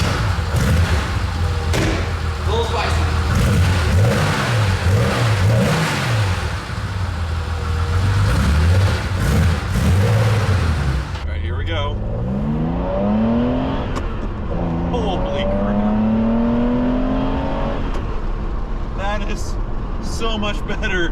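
A Jaguar E-Type Roadster engine fitted with individual PMO carburetors revs hard, its rising and falling pitch sweeping through repeated throttle blips, loud and close, with speech heard over part of it.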